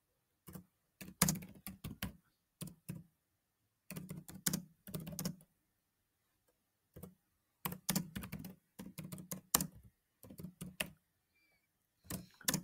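Typing on a computer keyboard comes in short clusters of crisp, close keystrokes separated by pauses, quiet room otherwise silent and no one talking.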